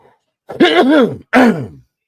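Two short, rough coughs close to the microphone, separated by a brief pause, with silence around them.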